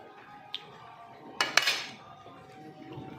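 A spoon mixes spiced tempering into yogurt in a bowl, giving a faint, soft clink, then two sharper clinks close together and a few quiet scrapes against the bowl.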